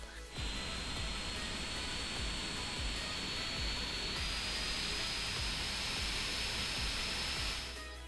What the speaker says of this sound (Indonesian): kipas ini sering nge-ramp up ke 4000 RPM dan mulai mengganggu kalau main game tanpa earphone